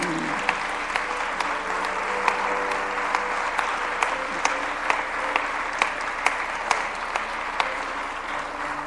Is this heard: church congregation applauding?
yes